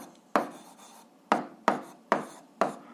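Pen or chalk strokes while an algebra solution is worked out, five sharp scratchy strikes spaced unevenly across three seconds, close and crisp with a quiet pause between each, no voice present.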